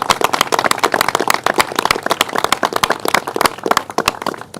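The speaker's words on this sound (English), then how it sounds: "Let's give him a round of applause and thank him." An audience at the governor's Staten Island event marking two years since Superstorm Sandy claps enthusiastically, a close, crisp and lively round of applause with many distinct hand claps.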